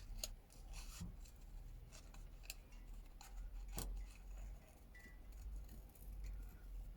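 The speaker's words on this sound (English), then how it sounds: "I'm just gonna quickly fussy cut." Scissors snip through paper ephemera in small, fussy cuts, giving quiet, irregular rasping snips and rubs at close range with brief pauses between them.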